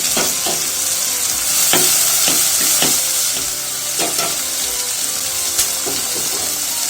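Spice powder sizzles and fries in a pan with pumpkin pieces for mor kuzhambu, with steady hissing and a few scraping stirs, close and alone.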